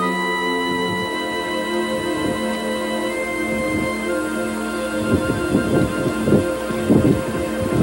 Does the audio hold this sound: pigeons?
no